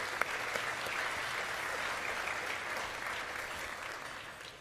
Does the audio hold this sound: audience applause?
yes